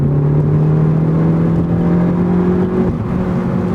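A 2018 Ford Focus ST engine pulls hard on a race track, a loud, steady, close-up drone that rises slightly in pitch before easing off near the end.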